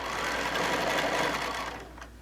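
A sewing machine with a lengthened stitch runs steadily through many fabric layers of a fat-quarter tote bag, a continuous close whirring hum that eases off near the end.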